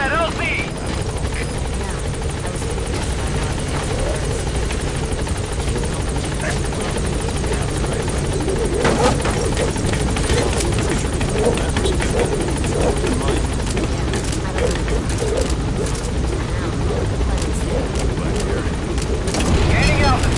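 A helicopter in Metal Gear Solid V hovers at a landing zone, its loud, steady rotor thrum and engine whine filling the scene while radio voices talk over it.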